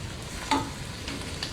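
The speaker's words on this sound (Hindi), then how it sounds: "हम इसमें अब दही ऐड कर देंगे 1 कप" Yogurt goes into mutton frying over a low flame in a pan, giving a faint, steady sizzle with one brief splash or stir partway through; no one speaks.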